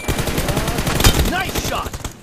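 Rapid automatic gunfire in the mobile battle royale game PUBG Mobile, dense loud bursts of shots filling the moment with a voice faintly underneath.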